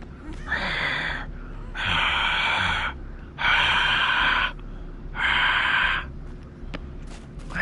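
The killer's heavy breathing in the horror game Dead by Daylight, four long rasping breaths in a slow steady rhythm, loud and close.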